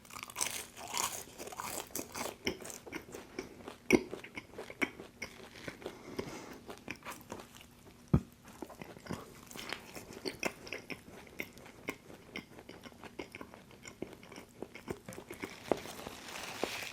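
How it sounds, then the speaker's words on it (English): Crunchy bites and steady chewing on Burger King fries, close to the mic, with a few sharper crunches and no talking. "I'm gonna take one more bite of fries and we'll call it there."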